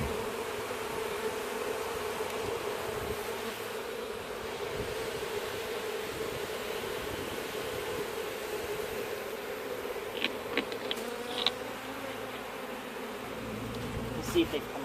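Honeybees swarm around a parrot nest box outdoors, their dense, steady buzzing running the full length with a few louder individual bees passing close to the microphone near the end.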